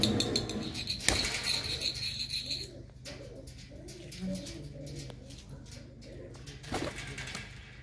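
Pigeons cooing in a fancier's loft in Punjab: soft, low repeated coos from nearby birds over a quiet background, with a few sharper knocks and rustles between calls.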